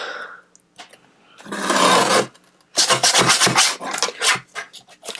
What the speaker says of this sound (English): I'm going to get my paper trimmer out and cut this at 4 1/8.